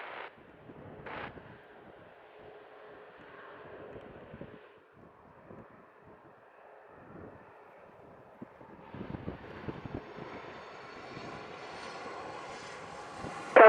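Fixed-wing airplane engine at Montego Bay airport in Jamaica, a steady distant drone that swells louder near the end, with some wind noise on the microphone.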